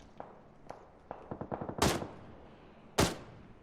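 Gunfire in the video game PUBG, a scattering of single shots, then a quick automatic burst and two loud, sharp close blasts about a second apart.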